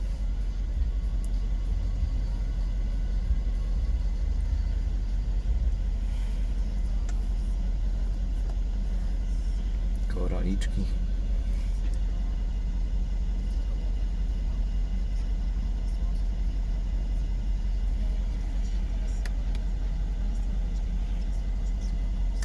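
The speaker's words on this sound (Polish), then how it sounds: "samochód paliwa ma dużo, pochodzi sobie, no, żeby nie zgasł w trakcie, w trakcie aktualizacji mapy." Mercedes SL R231 engine idling while parked, a steady low rumble that holds constant throughout, with a brief faint clatter near the middle.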